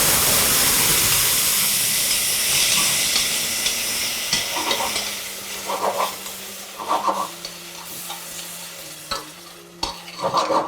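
Tomatoes added to onions frying in a pan for dhal soup, loud steady sizzling and hissing at first that eases into softer frying, broken by several clattering stirs and scrapes near the pan with no talk.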